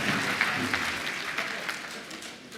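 An audience at a book presentation and graduation lecture applauds His Excellency with a steady round of clapping from many hands, moderately loud and gradually tapering off.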